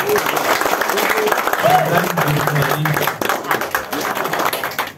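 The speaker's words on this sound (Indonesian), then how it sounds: "Aplaus buat kita semua Bapak Ibu" Audience applause at an exclusive club meeting of leaders, co-leaders, executives, managers and directors, a dense sustained clapping from a crowd indoors, with a voice talking over it.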